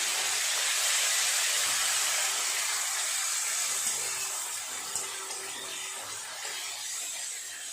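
A large chopped tomato goes into a pan of onions fried until reddish with whole garam masala, giving a loud, steady hissing sizzle that eases slightly as it continues.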